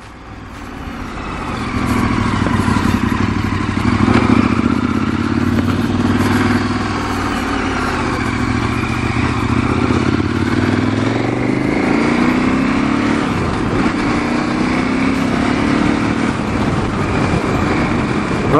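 KTM 1290 Super Adventure R motorcycle ridden on a street, its engine a steady, close, loud drone that rises and falls through gear changes for the whole stretch, with wind noise and no talk.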